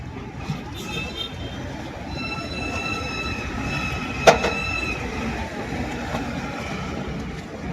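An LRT train passes overhead in Manila, its steady rumble and rail hum filling the scene along with a brief metallic squeal partway through, heard from street level below the elevated track.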